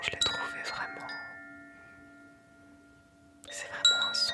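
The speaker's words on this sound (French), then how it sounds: "quand j'ai découvert les carillons Koshi" Koshi wind chimes ring in soft, bright tinkling clusters near the start, fading into a long sustained shimmer, then a fresh burst of delicate metallic chiming near the end.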